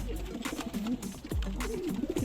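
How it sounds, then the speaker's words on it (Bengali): Pigeons cooing near a home at morning, several soft throaty calls in a repeating warbling rhythm, moderately close and steady without other voices. "এই পায়রা দুটো দেখুন সব ডাকছে।"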